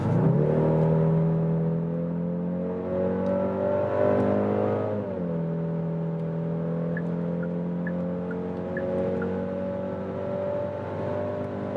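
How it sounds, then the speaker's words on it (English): A premium SUV accelerates hard in sport mode from highway speed, its engine droning loudly and rising steadily in pitch, with a brief dip at a gear change before climbing again, heard from inside the cabin. "let's accelerate it out."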